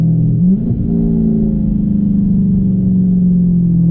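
Dodge Charger 392 V8 engine rumbling loudly and steadily as it downshifts through the paddle shifters, with a brief dip and pitch change near the start before a sustained, slightly rising drone.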